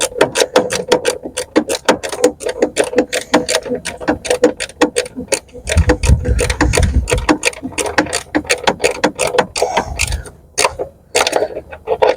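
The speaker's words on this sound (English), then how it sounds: "Now I could tighten this one up fully." A bolt being tightened on a Renault Scenic III ABS pump with a ratchet, rapid continuous clicking close and loud for about twelve seconds, with brief heavier mechanical rumbles partway through.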